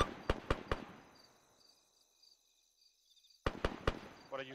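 Sharp bursts of gunfire in a video game, three close cracks ringing out into a fading echo, near silence, then another quick volley of shots, loud and close.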